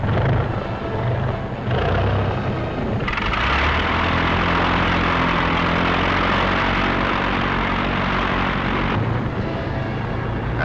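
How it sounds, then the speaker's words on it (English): World War II glider tow aircraft from Operation Varsity near Wesel, Germany, moving out, their propeller engines a loud, steady, unbroken drone that holds for about ten seconds with no voices. "the first of the glider tow units moves out."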